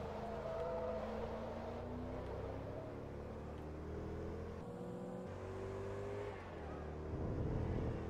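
A race car engine revs and accelerates in Forza Motorsport 2 at the Tsukuba circuit in a Class D Grand Prix, with a steady rising engine whine that climbs in pitch and shifts through gears, loud and continuous.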